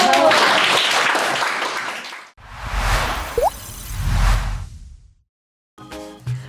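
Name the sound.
students applauding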